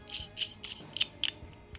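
A rifle barrel being reassembled and locked in: a quick series of about seven crisp metallic clicks and ratcheting snaps at close range, quiet and without speech.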